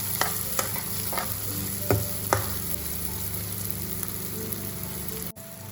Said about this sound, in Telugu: మనం ఈ ఉల్లిపాయలని కొద్దిగా ఫ్రై చేసుకుందాం.